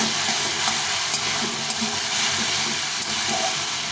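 A soybean mixture for soya bean muitha is sautéed in oil, producing a loud, dense, continuous hiss and sizzle up close, with faint stirring scrapes and no voices.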